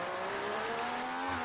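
Race car in a racing video game, the Austrian GP in a classic league, sweeping into a corner, its engine note holding steady and slightly rising, loud and continuous with no voices.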